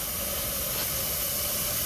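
Bryan steam tractor's boiler making steam during startup, a steady broadband hiss with an engine-like rumble underneath, continuous and fairly close throughout.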